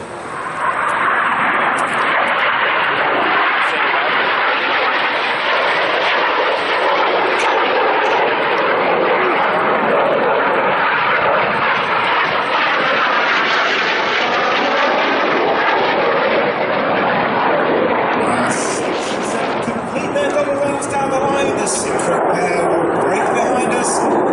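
Jet aircraft flying a formation display at the New York Air Show at Stewart International Airport make a loud, continuous roar that swells and holds for the whole stretch, with a faint voice underneath.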